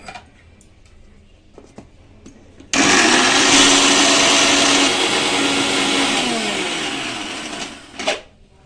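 Mixer grinder whirring loudly as it grinds garlic into paste, starting abruptly after a few soft taps and running steadily, easing slightly before stopping with a final clatter.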